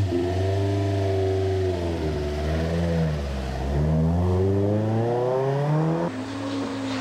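A car engine at Tsukuba circuit revs up and climbs loudly and close, its pitch rising and dipping through gear changes, steady and alone with no talk.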